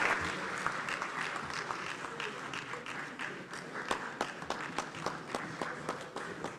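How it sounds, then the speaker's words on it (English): Applause from a crowd in a parliament chamber, dense at first and thinning into scattered individual claps toward the end, moderately distant. "Please, a round of applause for my younger brother, Reverend John Ntim Fojo."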